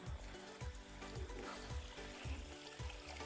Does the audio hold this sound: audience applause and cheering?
no